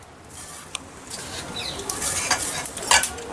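A farali uttapam cooking in oiled pan on a low gas flame, a gentle sizzle under clinks and scrapes of a utensil against the pan, growing a little louder toward the end.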